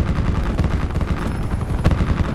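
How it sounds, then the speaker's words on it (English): A helicopter's steady rotor drone fills a Black Ops 4 match alongside bursts of rapid gunfire, loud and dense throughout with no pauses. "there's been a fucking helicopter in the game the entire time"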